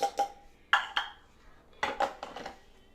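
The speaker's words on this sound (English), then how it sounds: "we're going to dump in the other 2 eggs" Two hard-boiled eggs are dumped into a bowl of potatoes for southern potato salad, making several soft clattering knocks against the bowl in uneven bursts, close and fairly quiet.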